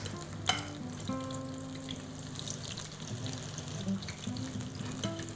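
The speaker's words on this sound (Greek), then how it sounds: "όταν θα βάλω την τηγανίτα μέσα στο τηγάνι, το αλεύρι θα πρέπει να την κρατήσει" Fritters sizzle steadily in hot oil in a frying pan, with a continuous close crackle throughout and a faint voice in the background.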